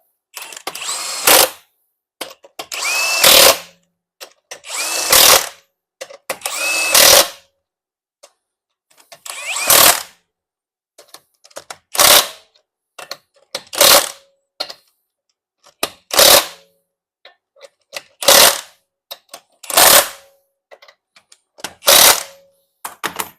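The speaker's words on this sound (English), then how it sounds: "I like to use that star pattern when you're tightening down the lug nuts" Power tool driving lug nuts onto a car wheel during strut assembly replacement on a 2015-2020 GM vehicle, a series of about a dozen loud, sharp bursts separated by short pauses, close and without speech.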